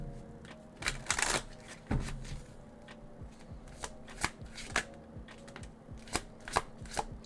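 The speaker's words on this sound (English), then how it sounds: "And you can hear that great shuffle." Oracle cards are shuffled by hand, a series of crisp riffling flutters and sharp card snaps repeating at an uneven pace, close and fairly quiet with no talking.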